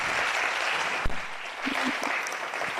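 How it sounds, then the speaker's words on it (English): Applause from an audience at the Women's Economic Forum Kenya 2024 fills the room, steady close clapping with a sharp thump partway through and brief voices murmuring beneath. "Give her another round of applause."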